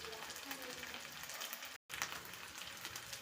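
Fish fries on a tava over a medium flame, giving a faint, even sizzling hiss that cuts out for a moment.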